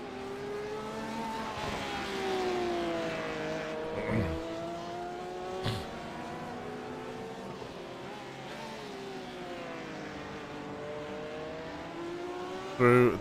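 A Brumos Porsche race car at the Nürburgring in a sim racing game holds a steady high engine whine that rises and falls with gear changes and corners, and a few sharp clicks cut through it.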